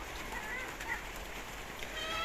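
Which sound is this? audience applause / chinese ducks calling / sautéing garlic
chinese ducks calling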